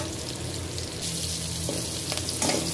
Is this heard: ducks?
no